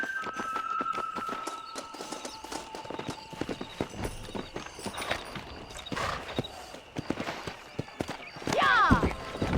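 Horse galloping in the video game Red Dead Redemption, rapid rhythmic hoofbeats with a brief whinny near the end, under game music and voices talking.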